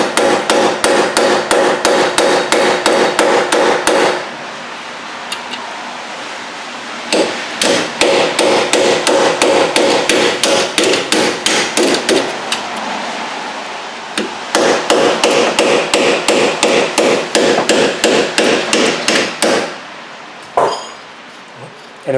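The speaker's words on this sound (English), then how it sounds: "you just tap this here very lightly" Steady hammer taps on the back of a front strut bolt, nuts threaded on to guard the threads, during a front strut assembly replacement on a 2006 Chevy Cobalt; rapid light metallic blows run in bursts with brief pauses between them.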